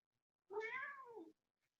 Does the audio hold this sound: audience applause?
no